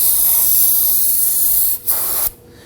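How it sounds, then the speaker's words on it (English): Spray solvent hisses in a steady, loud, close burst into the port area of a rear wheel hub on a 2001-2009 Volvo S60 2.5L FWD, then briefly cuts out, resumes, and stops. "Now I'm gonna go ahead and spray it down with some spray solvent."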